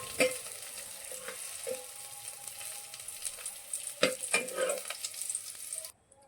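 Capsicum fries lightly in oil in a pan, a soft continuous sizzle broken by several sharp scrapes and clinks of a stirring utensil, close and moderately loud, ending abruptly.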